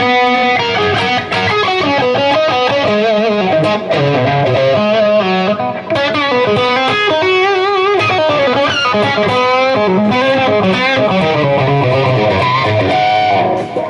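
Overdriven electric guitar with a gritty, crunchy tone plays a steady stream of chords and notes, loud and up front throughout.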